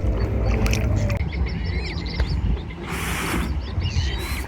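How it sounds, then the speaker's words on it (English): A two-person kayak paddles across Lake Skadar in Montenegro, with steady water splashing and paddle strokes close by, bursts of spray, and birds chirping in the background. "Kayaking in Lake Skadar was truly a rewarding experience"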